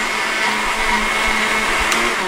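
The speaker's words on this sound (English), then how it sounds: "This poor blender." A blender runs steadily at high speed blending chewing gum, a loud continuous whirring buzz with a faint rattling thump underneath.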